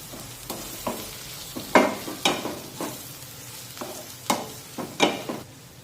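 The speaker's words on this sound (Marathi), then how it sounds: "आता हे सर्व मसाले आपल्याला अगदी व्यवस्थित परतून घ्यायचे आहेत" Spice masala sautéed and stirred in a pan for a dry capsicum curry, with steady sizzling broken by repeated scraping strokes of a spoon, close and fairly loud, no voices.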